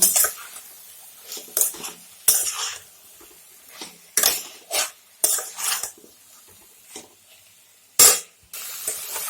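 A metal spoon scrapes and clanks against a pan as turmeric, cumin and chilli powder are stirred into vegetables, with irregular loud knocks and scrapes separated by quiet gaps and a soft sizzle underneath.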